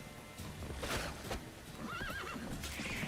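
A horse in a video game gives a loud, wavering whinny in the middle of a busy, noisy stretch of game sound, with clip-clopping hooves and other effects around it and no one talking.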